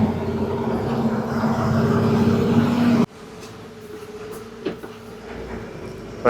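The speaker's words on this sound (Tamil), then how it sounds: "இப்போ ஹில்ஸ் ஏறும்போது நமக்கு தெரியுங்க, இன்ஜின் வந்து ரேஸ் அப்படியே கம்மியாகும்." A truck engine labours in low gear up a hill road on the Sahyadri mountain route, with a steady loud drone that drops abruptly to a quieter rumble midway, followed by a few faint knocks.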